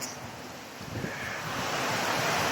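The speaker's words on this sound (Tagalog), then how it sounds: "ang lakas ng hangin dito" Strong storm wind by a river roars steadily into the microphone, a broad rushing gust that builds slightly louder toward the end, with no voices.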